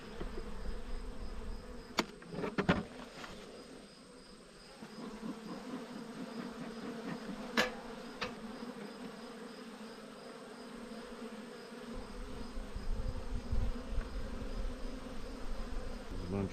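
Honey bees buzz steadily around an opened backyard hive with frames of honey, pollen and capped brood, a dense continuous hum with a few sharp louder passes close by.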